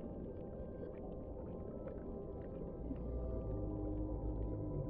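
A deep, drawn-out roar from a sea creature in Subnautica rumbles low and steady across the whole stretch, growing slightly stronger toward the end against an underwater ambience.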